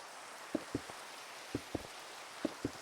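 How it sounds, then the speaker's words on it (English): Rain falling in the Minecraft video game, a soft, steady hiss broken by three pairs of short, light thuds spaced evenly apart, with no talking. "It's always raining on this stream."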